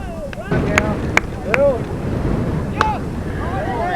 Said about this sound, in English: Very, very strong wind tonight.